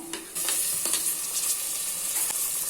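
Chopped tomatoes tipped into onions frying over medium flame for chicken rassa, with a jump to loud continuous sizzling and a few scraping stirs throughout.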